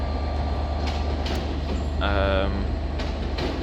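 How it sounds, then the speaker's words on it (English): A pair of Class 465 electric trains from Gillingham arrives at London Victoria, heard as a steady rumble of rolling stock with brief tonal whine and squeal partway through, loud and continuous throughout. "arriving in now is a pair of 465s, and these are terminating in from Gillingham"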